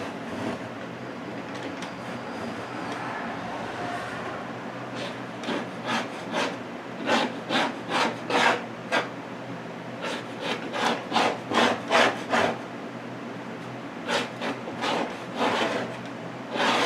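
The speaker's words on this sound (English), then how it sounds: "But I'm gonna just kind of shovel, or scrape I should say, all of this stupid scenery dust out." Scenery dust scraped off an O gauge model train layout, a run of rhythmic rasping strokes close by, starting quieter and growing into louder repeated scrapes with short pauses between bursts.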